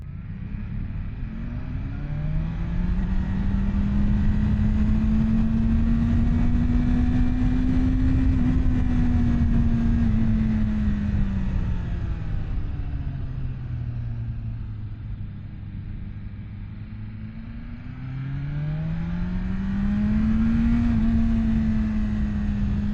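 A 2024 BMW S1000RR superbike engine hums steadily while riding, its pitch rising and falling smoothly through gentle acceleration and easing off, with constant wind rush; close and continuous, no talk.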